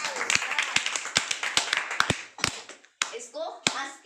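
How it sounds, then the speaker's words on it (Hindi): Children in a classroom clap in a short, uneven burst of sharp, close handclaps, some louder and isolated, tapering off near the end with a voice or two breaking in. "तालियां।"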